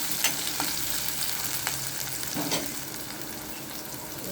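Green chillies sizzle and crackle in hot oil with garlic, a soft steady frying hiss with a few small pops, heard alone and fairly quiet while cooking a dill, spinach and raw mango vegetable dish.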